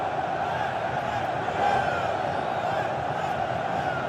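Corinthians supporters roar in a packed stadium during a 2016 Brasileirão derby against São Paulo, a dense, steady crowd din of cheers and chants that swells briefly midway, with a faint commentator voice underneath.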